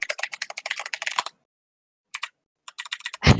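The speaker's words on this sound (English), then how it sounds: "get ready for the Gatling gun that is the new keyboard" A new computer keyboard clatters in fast bursts of sharp keystrokes, close and loud, with a pause of silence before more quick typing and a final heavier thump.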